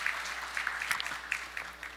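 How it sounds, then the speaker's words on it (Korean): During a Christmas church service, the congregation gives a soft round of applause for two children, with scattered, fairly distant claps at low volume. "우리 박수를 두 친구에게 보내주시기 바랍니다."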